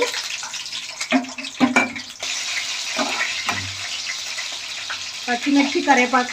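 Green chilies and curry leaves hitting hot oil for a fish curry with raw mango, a bubbling, spattering fry near the mic with scattered stirring clatters and someone speaking briefly over it.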